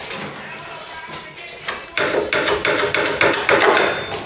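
Repeated metallic hammer blows knocking a spot-welded bracket off a Mk3 Ford Cortina during restoration, faint taps at first, then a loud, close, rapid series in the second half.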